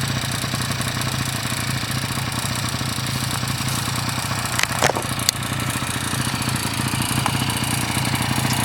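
A 1986 Honda Spree scooter with its stock oil injector idles steadily and close by, a smooth continuous engine drone with a couple of brief clicks midway and no talking.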